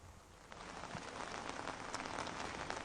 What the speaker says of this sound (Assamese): এতিয়া প্ৰতিদিনে বৰষুণ দিছে